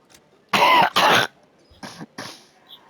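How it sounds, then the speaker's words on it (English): A man coughs hard twice in quick, loud bursts, then gives two weaker, shorter coughs after a brief pause, close and alone with no talk. "I'm coughing my guts out just as usual."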